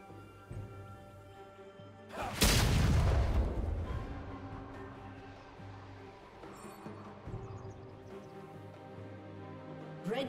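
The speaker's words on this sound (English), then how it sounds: "Red Team's turret has been destroyed." A League of Legends turret collapses in a loud, booming burst that fades into a rumbling tail over steady game music and ambience, with smaller crackles following.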